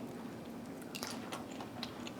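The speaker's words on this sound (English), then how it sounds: "do you hear the crunch of the skin?" Crisp, moist crunching as the skin of a brined roasted chicken is cut and bitten, a string of short, close crackles over steady low background noise with no talking.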